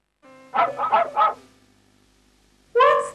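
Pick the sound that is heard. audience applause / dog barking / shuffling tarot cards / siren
dog barking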